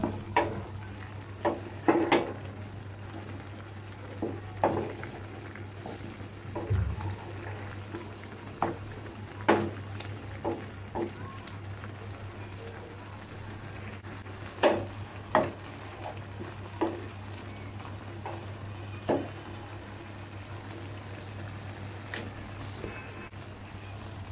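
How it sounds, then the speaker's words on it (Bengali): Food being stirred and mixed in a pan as it cooks for a spicy dish, with repeated soft scraping and clinking strokes over a steady sizzling, bubbling background. "এই যে এখন মিক্স করে নিব, ভালো করে মিক্স করে নিব।"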